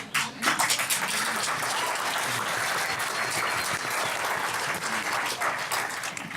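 An audience at a panel discussion on race and resistance breaks into sustained applause, a dense wash of clapping that starts sharply and stays fairly even for several seconds.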